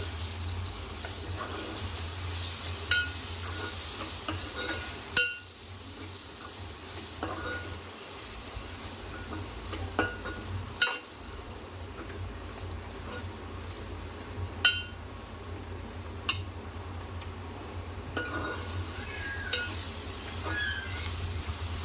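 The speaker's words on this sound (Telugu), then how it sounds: "అల్లం వెల్లుల్లి పేస్ట్ వేసుకొని దాన్ని పచ్చివాసన పోయే వరకు ఫ్రై చేసుకోవాలి" Ginger garlic paste frying on low flame, a steady soft sizzle running for a long stretch, broken by occasional clicks and taps of a spoon against the pan.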